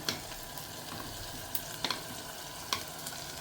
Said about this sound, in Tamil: நம்ம இந்த வெந்தயக்கீரை அறுத்து வச்சுருக்கிறது போட்டுக்கலாம்